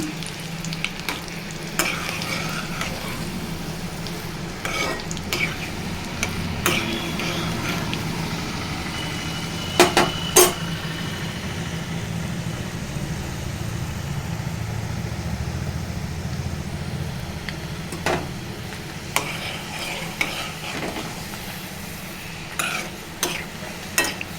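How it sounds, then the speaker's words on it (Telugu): Five or six dried red chillies fry and sizzle steadily in a pan while being stirred, with scattered clinks of a spoon against metal and a low hum underneath. "ఇప్పుడు ఎండుమిర్చి అండి ఐదారు ఎండుమిర్చి వేస్తున్నాను దూరగా ఫ్రై అవ్వాలండి"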